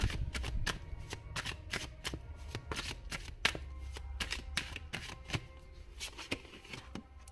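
A deck of tarot cards is shuffled and drawn close by, making a run of crisp, rapid riffling snaps and flicks that keep an uneven rhythm throughout.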